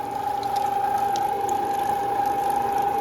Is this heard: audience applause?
no